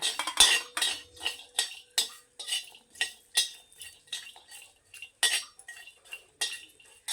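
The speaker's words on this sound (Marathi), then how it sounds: "आता लसूण व्यवस्थित असा त्याला डाग लागेपर्यंत भाजून घेऊया" Garlic roasting and stirred in a pan for a garlic chutney, giving a steady run of scraping, clinking spoon-on-metal strokes in an irregular rhythm, close up, with no talking.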